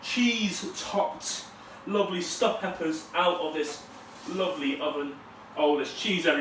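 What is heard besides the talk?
No everyday noises stand out.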